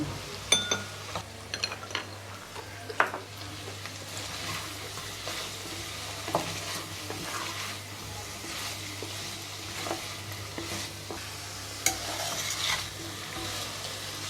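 Carrot and radish go into a pan of half-cooked potatoes for traditional Ladakhi skyu: a soft steady sizzle under repeated stirring, with occasional light clinks of a utensil against the pan and no talking.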